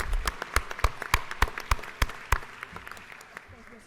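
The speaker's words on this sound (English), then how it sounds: "Everybody give them a round of applause." Scattered claps from a small group in the Georgia House chamber, a few sharp hand claps that grow sparser and fade out over a few seconds, with faint talk beneath.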